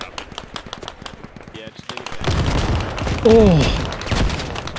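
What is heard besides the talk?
mortar shells exploding in the video game Squad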